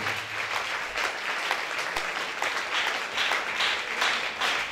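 A church congregation applauds loudly, with dense, steady clapping that fills the room and holds without a break from start to finish.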